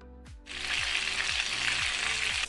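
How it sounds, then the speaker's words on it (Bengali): White oil and butter sizzle in a kadai on a gas stove for butter chicken: a loud, steady frying hiss that starts after a half-second lead-in and continues without a break, with no talking. "তার জন্য গ্যাসে কড়াই চাপিয়ে তাতে দিয়ে দিয়েছি অল্প একটু সাদা তেল"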